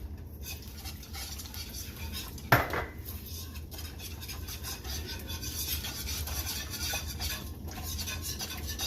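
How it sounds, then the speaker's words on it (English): Whisking almond milk and nutritional yeast in a pan, a steady scraping and rubbing of metal against the pan with one sharper clink, continuous and close. "And I'm going to whisk this around."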